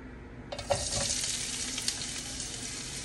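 Ginger going into a little hot oil for sautéed mussels, with a sudden burst of sizzling after a quiet start that settles into a steady crackling fry with a few stirring knocks.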